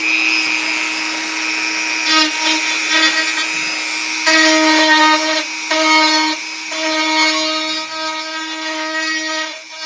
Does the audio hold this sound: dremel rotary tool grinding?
yes